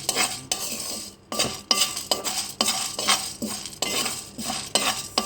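Curry leaves roast on a low flame in a pan for karivepaku podi as a spoon scrapes and stirs in repeated rhythmic strokes, with clinks of metal over a faint sizzle and no voices.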